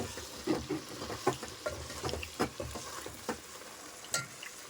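Food frying in oil in a village kitchen during the Sankranti festival, with irregular crackles and sharp pops scattered over a soft, steady sizzle, close by and moderately quiet.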